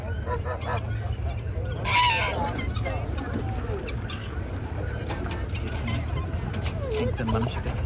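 Geese honk at an outdoor livestock farmers market in Mulvane, Kansas, sounding a few scattered calls over a steady low crowd murmur and other fowl noise.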